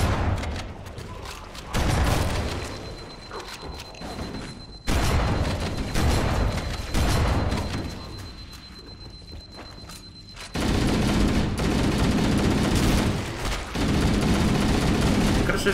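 Explosions and gunfire in Halo: Combat Evolved roll on in dense, loud bursts, with heavy booms at intervals over continuous rattling fire and weapon mechanisms.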